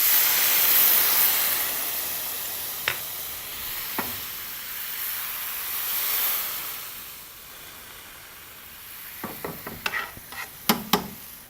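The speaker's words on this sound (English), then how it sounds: "we use a small amount of white wine or stock to deglaze the pan" White wine hits a hot pan used for sauteed pork, giving a soft steady steaming hiss that fades, followed near the end by a cluster of sharp clinks and scrapes of a utensil against the pan.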